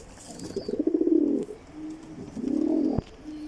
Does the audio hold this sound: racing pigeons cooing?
yes